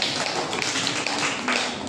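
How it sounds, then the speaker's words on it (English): A class of kindergarten children clap their hands together during a classroom English activity, a dense, steady patter of many small hands filling the room with no pauses. "Clap for yourself."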